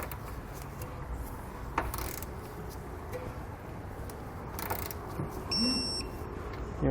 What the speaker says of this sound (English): We'll come back with that same 17mm socket. And we're going to torque all of our hardware down to the specified amount in the instructions.